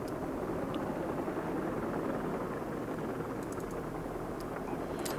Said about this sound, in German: Na, wir steigen einfach mal hier in den Heli ein.